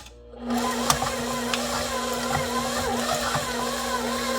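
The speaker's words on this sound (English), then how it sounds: "Cream cheese and butter. We're gonna mix it about a minute or so." Electric stand mixer beating cream cheese and butter for a pineapple coconut cake: a steady motor whine starts suddenly and holds, with beaters knocking and thumping against the bowl, close and continuous.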